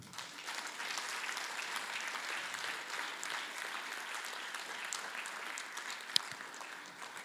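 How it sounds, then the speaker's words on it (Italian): Applause from the audience at an emergency-response conference held in a school fills the hall as steady, moderately distant clapping that holds evenly throughout, with one sharp tap near the end. "grande applauso"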